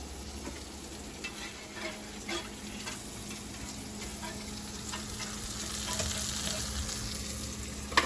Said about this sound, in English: I have the heavy whipping cream in this pan that I initially put in here, and I put a little bit of butter in here.